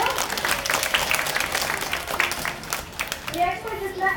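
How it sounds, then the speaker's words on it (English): An outdoor sea lion show audience applauds, dense steady clapping mixed with crowd noise and children's voices, fairly loud throughout and fading slightly at the end. "Can you give Lilli another round of applause?"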